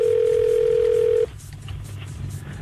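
A steady telephone dial tone on a French radio call-in show holds alone for about a second, then cuts off abruptly to a low line hiss.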